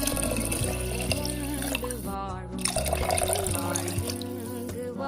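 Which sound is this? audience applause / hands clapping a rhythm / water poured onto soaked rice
water poured onto soaked rice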